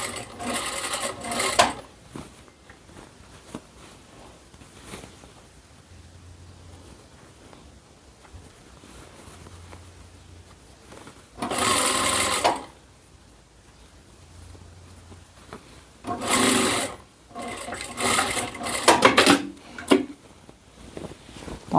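A sewing machine stitches a fabric tote bag seam in several separate loud bursts of rapid whirring, spaced apart by quiet pauses for repositioning the cloth.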